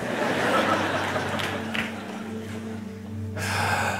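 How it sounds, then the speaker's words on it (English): A single deliberate deep breath, a breathy inhale and exhale close to the mic, from a preacher during a sermon about being brave and anxious for nothing. "just I physically breathe"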